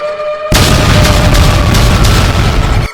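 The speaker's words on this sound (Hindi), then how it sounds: "थोड़ा और आगे चलने पर बहुत तेज धमाका" After a brief quiet moment, a sudden loud boom erupts into a sustained roaring blast that rumbles on before cutting off.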